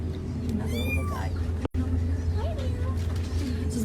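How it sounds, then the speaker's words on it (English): High, thin meows from small kittens in an animal shelter nursery, a couple of clear cries rising above a low background hum, with a soft voice faintly present. "There's just a bunch of kittens."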